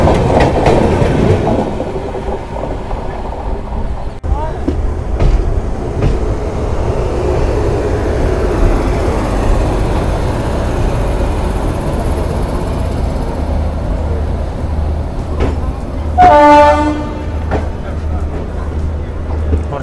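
An express train hauled by a WAP-7 electric locomotive accelerates past the outer signal, giving a steady loud rumble and rail clatter throughout, with a brief horn-like tone near the end; someone speaks over it.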